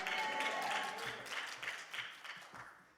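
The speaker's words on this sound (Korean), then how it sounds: "우리 할렐루야로 하나님께 영광의 박수 올려드립니다" A church congregation claps in a short wash of applause that peaks early and then breaks into scattered, fading claps toward the end.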